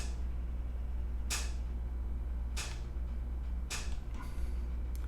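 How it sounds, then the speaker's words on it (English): A heater creaks in three or four sharp, separate bursts spaced about a second apart, each standing out over a steady low hum in a quiet room. "My heater is now making noise"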